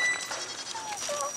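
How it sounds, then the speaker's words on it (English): Goat bleating during an animal feeding at a safari park, a short wavering cry heard at moderate distance over outdoor background noise. "It's just a goat."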